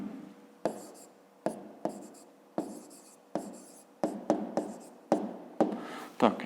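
Pen scratching out an explanation in a school maths notebook, a run of short strokes and word bursts with brief lifts between them, close and fairly quiet with no talk over it.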